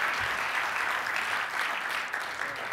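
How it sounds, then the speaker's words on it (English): An audience at a business conference applauds its organizer, a steady wash of many hands clapping at moderate distance, even and sustained throughout. "Can we all give applause to him?"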